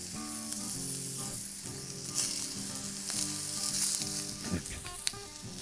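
A sausage burger patty sizzles loudly on a flattop griddle, a constant crackling hiss with a few scraping and clinking spatula sounds, close up and with nobody talking.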